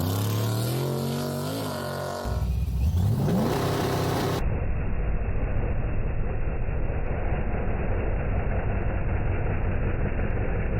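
A Chevy drag car making a pass with tire shake: a low engine revving and rising in pitch, then a harsh, rumbling roar that holds loud and steady for several seconds.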